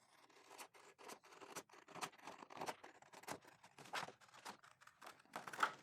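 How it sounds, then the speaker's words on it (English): Scissors snip through paper for a geometric cut paper collage, a quiet, close series of about a dozen crisp cutting strokes in an irregular rhythm, with no talking. "Let's get in here and get some scissors on this."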